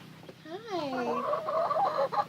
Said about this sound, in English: Oh, look, you got a chicken behind you.